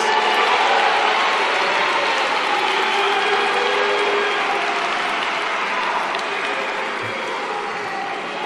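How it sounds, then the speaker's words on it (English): A large audience at a State of the Nation Address claps in a big sustained round of applause, dense and even throughout with no pause and no voices. "let us give them a big round of applause"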